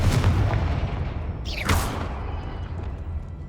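In the Hogwarts Legacy video game, the Confringo explosive spell goes off as a sharp whooshing burst followed by a short boom, loud against a low game background hum.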